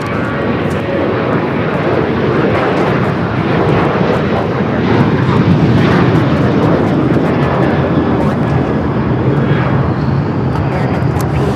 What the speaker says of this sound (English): 1437 taking off to Indianapolis on the 737-800